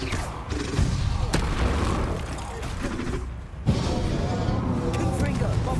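Magical spell blasts from Confringo and Bombarda in Hogwarts Legacy, booming thuds and crackling impacts amid continuous game noise, with a sharp blast near the end and a voice talking over it.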